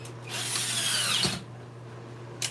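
A power drill drives a stainless steel screw into wood, one loud whirring burst of about a second that bogs down at the end, then a brief second blip.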